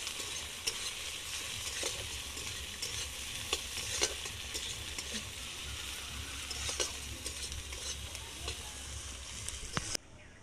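Chopped onions frying in a pan for a fish dish, a steady close sizzle and hiss with occasional scraping stirs throughout, ending in a brief click.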